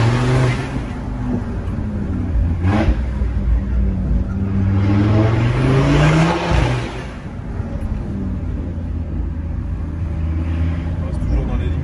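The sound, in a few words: car engine revving with turbo spooling down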